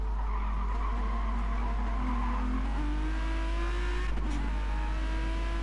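DTM race car braking into a hairpin at Blue Moon Bay in a racing video game, engine pitch dropping under heavy braking with a long tire skid and squeal, followed by another car's engine rising.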